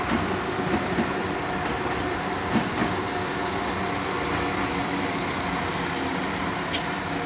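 Two coupled class 172 two-carriage diesel multiple units at Worcester Shrub Hill station, a steady loud rumbling engine drone with faint clicks and a brief high squeal near the end.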